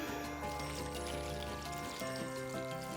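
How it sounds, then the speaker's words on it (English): Liquid poured steadily into a pot of beef bourguignon with meat and vegetables, a continuous close splashing pour over a backdrop of music. "I'm going to pour this in right on top."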